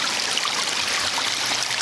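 Water pours steadily from a garden pond waterfall, a continuous close, broadband rushing and splashing with no break over the short span.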